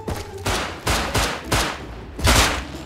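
Gunfire in the video game Rust: four loud, sharp shots cracking out at roughly even intervals, close and dominant, each with a brief echoing tail.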